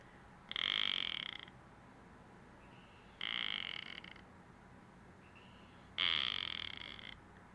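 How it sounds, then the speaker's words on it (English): A frog croaking in a backyard at night, three separate rasping, buzzy calls about a second long each, spaced evenly a few seconds apart, close and clear over quiet outdoor background. "You can hear the frog in my backyard."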